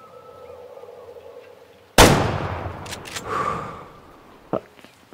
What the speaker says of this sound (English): I tried the spine shot, I missed. Second shot.